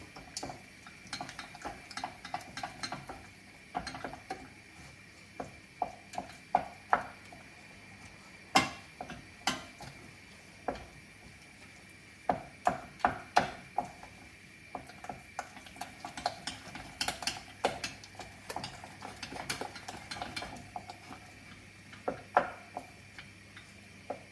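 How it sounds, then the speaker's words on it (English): A whisk clinks and taps rhythmically against a pan while stirring Welsh rarebit sauce off the heat, a run of quick, fairly faint metallic ticks with irregular pauses, close by and without talk. "Give that a whisk around."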